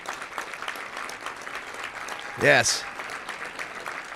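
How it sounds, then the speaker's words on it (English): A luncheon audience at the Little Rock Touchdown Club applauds for a ninth-degree black belt, a steady wash of clapping under a voice, with a brief vocal outburst rising midway. "Let's give her a round of applause."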